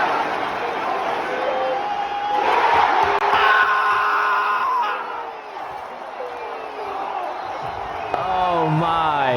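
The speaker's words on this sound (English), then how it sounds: "That is the Garden crowd going A-wire with Jalen Brunson" A Madison Square Garden basketball crowd roars and whoops during an NBA playoff game between the Knicks and Cavaliers, a dense loud cheering swell that surges and dips, with voices talking over it.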